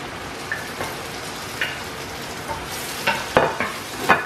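Garlic and onion sautéing in a hot pan, a soft steady sizzle with scattered clicks and scraping stirs that grow busier toward the end, close and alone without talk.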